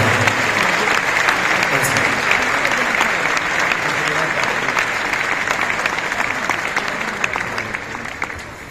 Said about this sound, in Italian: Fate un grande applauso